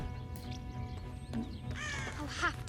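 A crow caws a few times in Shadow of the Tomb Raider, harsh calls set over a low rumbling game ambience, quiet and somewhat distant.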